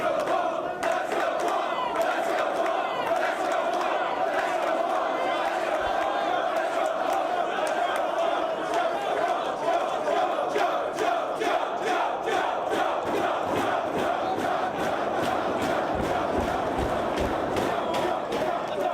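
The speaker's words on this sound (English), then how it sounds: "This crowd in Dayton showing their support for both men." Wrestling arena crowd in Dayton cheering and chanting for CM Punk and Samoa Joe, a dense continuous roar with rhythmic clapping and chant pulses growing stronger toward the end, heard alone at steady loudness.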